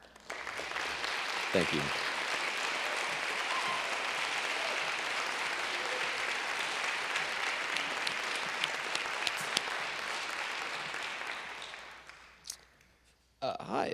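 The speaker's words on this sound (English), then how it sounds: "Could we just give one more big round of applause for all these amazing poets?" An audience at a youth poet laureate celebration in Santa Cruz County applauds a poet, with sustained, fairly distant clapping and some cheers that fade out near the end before a brief spoken thanks.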